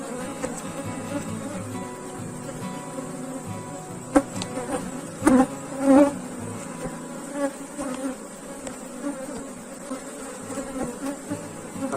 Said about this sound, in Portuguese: Mas o enxame já está com volume muito bom de abelha.